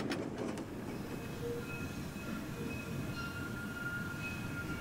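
A replica of the Arnhem tram running on museum track rumbles steadily and fairly close, with metallic wheel-and-rail noise, a few clicks at the start, and faint squealing tones.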